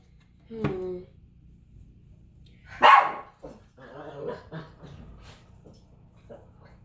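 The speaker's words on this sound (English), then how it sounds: "my dogs just get really aggressive whenever they realize anything exists outside of our unit" Two dogs bark aggressively indoors at a home unit, a sharp loud burst of barks followed by more yips and growly barks at moderate distance, mixed with some vocal sounds.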